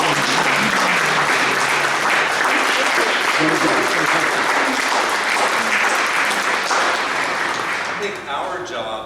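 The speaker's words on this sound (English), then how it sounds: "please join me in a round of applause." Audience at a history talk gives a sustained round of applause, dense and loud throughout, starting to thin out near the end.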